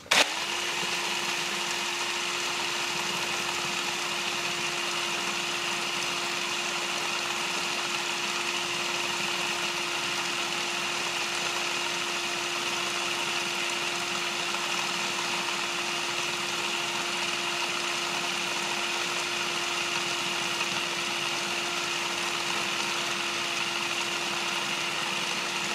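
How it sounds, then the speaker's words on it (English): A 3D-printed electric generator spinning up, a loud, steady whirring drone with a constant motor-like hum that holds evenly for the whole stretch without pause. "And now I'm going to spin that up."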